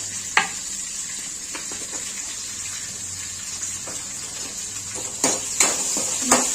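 Onion with a pinch of asafoetida sizzles and fries softly in a pan for sambar, a steady close hiss with a few sharp spatula knocks and scrapes.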